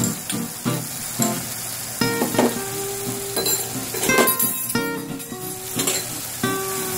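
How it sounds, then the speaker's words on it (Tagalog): Garlic and onion sauté in a pan for adobong pusit with tomato, with an ongoing sizzle broken by frequent clinks and scrapes of a metal utensil against the pan. The sounds are close and fairly loud. "Ngayon ay ilagay natin yung bawang, sibuyas,"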